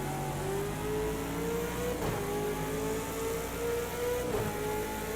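Race car engine lapping Bathurst in the Project Cars 2 racing game, a steady loud drone with rising pitch as it accelerates through gears, two brief shift dips along the way, no talking.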